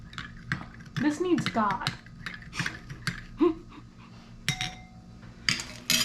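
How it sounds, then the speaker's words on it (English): A spoon stirs chunky chicken stew in a 27-year-old MRE pouch, giving scattered light clinks and scrapes between short bursts of talk. "let's get all the chunks stirred in"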